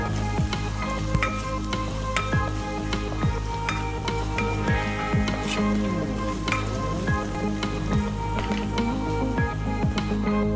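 Duck curry masala sizzles loudly and steadily in a pan as turmeric is stirred through, with wet squelching scrapes and regular spoon strokes over a constant frying hiss, close and without any voice.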